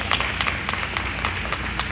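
Audience applause at a Benedict College alumni gathering honoring a women's basketball championship coach, a dense steady patter of many hands clapping for about two seconds, loud and close without talk.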